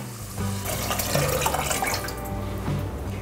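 Water is poured from a tap into a pot of soaked cannellini beans with rosemary for Tuscan ribollita, a steady close splashing and filling sound with no speech.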